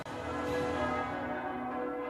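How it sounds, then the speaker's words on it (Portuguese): Church bells peal continuously to announce a new pope, a dense, resonant ringing that swells and sustains throughout, loud and without any voices. "E os sinos anunciam que a Igreja tem um novo líder."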